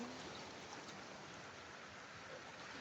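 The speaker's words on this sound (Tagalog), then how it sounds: "Lakas ng ulan." Heavy rain pours at a coastal rock formation near Diguisit and Baler, a dense, even hiss of falling water that is soft and distant with no talking.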